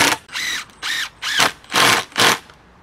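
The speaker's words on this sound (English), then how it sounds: "and drive the screws" Power drill driving screws into an outdoor workbench stretcher, five short whirring bursts in a steady rhythm, loud and close with brief pauses between.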